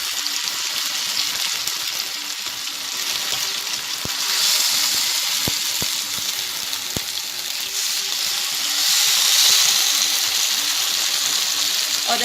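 A suji toast slice fries in a pan over a medium-low flame, giving a steady, soft sizzle that swells slightly at moments, close and with no talk.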